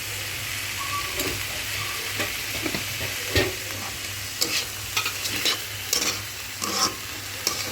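Bottle gourd bhaji fries in a pan, a steady crackling sizzle with repeated scraping stirs and taps from a utensil, fairly close and without speech.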